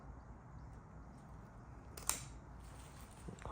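A single crisp snip as a concave cutter trims the roots of a Japanese maple bonsai clump, close and clear against quiet room tone.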